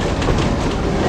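An 1880s steam-era train rolls along the rails near Keystone, South Dakota, with a loud, close, continuous rumble and rattling wheel noise filling the short stretch.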